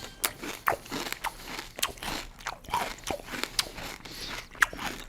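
Crunchy bites of Kellogg's Vector high-protein cereal being chewed close up, a steady series of dry crackling crunches with no talk.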